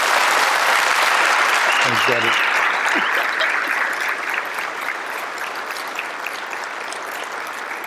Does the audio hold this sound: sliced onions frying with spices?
no